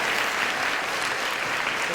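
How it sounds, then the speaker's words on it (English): Sustained audience applause fills the room, a steady dense wash of many hands clapping at an event, loud and unbroken from start to finish. "How about another round of applause?"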